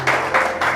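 A wedding congregation in church applauds the couple's kiss, steady close clapping filling the short moment without a break.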